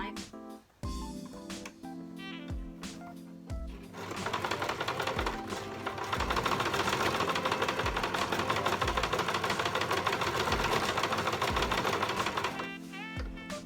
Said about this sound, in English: So I'm just sewing this on the inside.